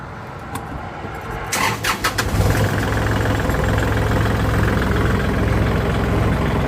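A used Kubota tractor engine with about 3,400 working hours cranks with a few rough coughs, catches, and settles into a loud, steady, close-up diesel idle with a low rhythmic chug, with no one talking over it.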